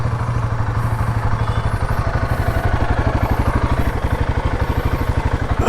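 Royal Enfield Himalayan 450 motorcycle engines thump at a steady idle and pull away on a trail in the Javadhu hills, loud and close, with no voices.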